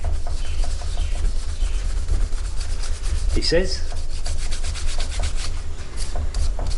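Steady abrasive rubbing on an old aluminium drill press part during a rusty drill press restoration, continuous close scrubbing strokes with no talk.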